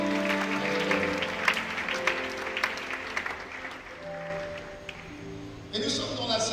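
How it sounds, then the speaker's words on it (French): A church congregation breaks into sustained applause and cheering during a worship service, the clapping dense and mid-distance, mixed with raised voices and music, swelling again toward the end. "Dis Amen, acclame le Seigneur."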